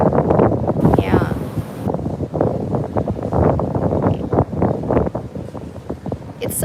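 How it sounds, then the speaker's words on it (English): Gusts of wind buffet the microphone with low rumbling bursts on the deck of the cruise ship Adventure of the Seas while a person talks continuously over it. "It's so windy up here"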